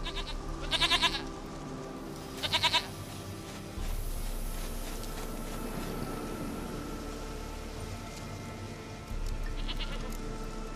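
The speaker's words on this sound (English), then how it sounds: "Goat of mine, dearest, sweetest goat." A goat bleats in The Witcher 3, with short quavering calls coming in two quick bursts near the start and one more toward the end, heard over a quiet ambient hum.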